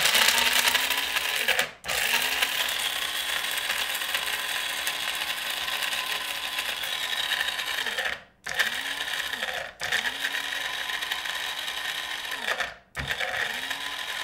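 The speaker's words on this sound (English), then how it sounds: "It's a coffee grinder." A coffee grinder grinds almonds with a loud, steady mechanical whir that cuts out briefly four times, each stop followed by the motor spinning back up.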